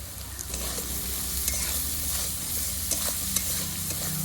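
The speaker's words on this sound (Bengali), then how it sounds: "দিয়ে সবজিটা আরো দু মিনিট ভেজে নেব" Mixed winter vegetables of potato, carrot and cauliflower fry with salt and turmeric for upma, a close, steady sizzle broken by intermittent stirring clicks and scrapes.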